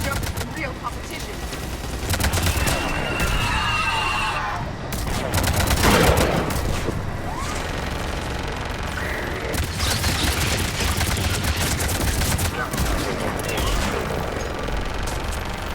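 Missile salvo and gunfire in Mass Effect 3, a dense continuous barrage of rapid shots and booms running throughout, with radio voices talking over the fighting.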